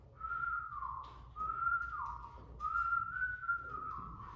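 A person whistles a call in three long, wavering phrases, each sliding gently up and down in pitch, close and clear over a quiet background.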